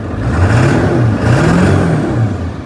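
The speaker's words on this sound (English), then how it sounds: "Give it some throttle" A 7.3 Powerstroke diesel engine revving under throttle, two rising and falling surges of a deep, rattly diesel rumble, loud and close with no speech.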